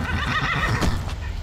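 A wild horse in Red Dead Redemption 2 neighs and whinnies loudly up close, a shrill drawn-out call over busy game ambience and faint hoof clatter.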